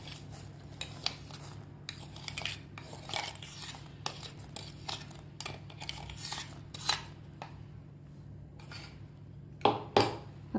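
A metal spoon stirs ground rice into boiling milk in a pressure cooker pot for mango kheer, giving quiet, intermittent clinks and scrapes against the metal with short pauses between strokes.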